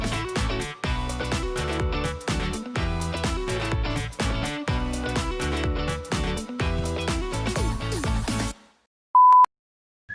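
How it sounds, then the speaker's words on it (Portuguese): A single sharp electronic beep marking a segment break in a podcast rings out briefly and cleanly right after a burst of music ends, alone in near silence. "Eu boto um bip pra indicar que tá uma separação"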